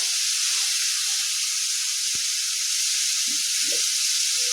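Grated tomatoes frying in a pan for a spinach and egg curry give a steady, loud sizzle and hiss, with a few soft clicks and bubbling pops.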